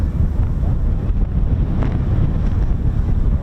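Strong wind buffets the microphone at an RAF airfield where Eurofighter Typhoon FGR4 jets operate, a loud steady low roar with gusty rumbling throughout and no speech.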